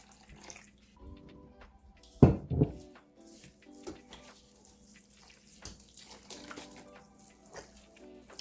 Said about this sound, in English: I'm gonna pour the liquid now and mix.